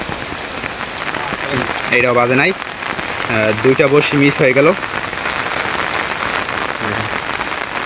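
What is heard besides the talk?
heavy rain falling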